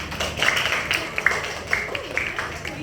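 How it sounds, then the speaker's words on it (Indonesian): Hands clapping in a primary school classroom, a quick run of light, irregular claps from a small group, fairly close, over low room noise. "Tepuk tangan dulu tuh Hafiz."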